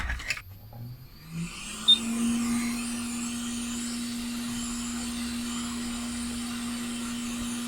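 A heat gun heating a waterproof solder wire connector gives off a steady, even blowing hum that starts after a few small handling noises and holds constant to the end.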